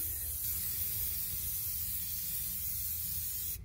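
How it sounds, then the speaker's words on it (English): A steady, continuous hiss of reptile-safe spray paint from an aerosol can, close and loud, lasting several seconds without a break. "reptile safe spray paint"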